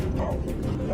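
A rescue dog barks and yips in short repeated bursts, close and fairly loud, during search work for trapped people in Brazil, with some background noise mixed in.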